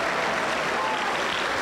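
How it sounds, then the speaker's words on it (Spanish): Steady, dense applause fills a Pentecostal church service, a congregation clapping continuously and loudly. "aplauda para el Señor Jesús"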